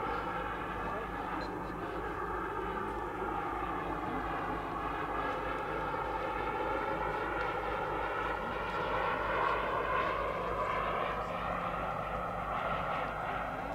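A Kingtech 140 turbine model jet comes in to land, its continuous whining turbine roar steady and moderately distant throughout.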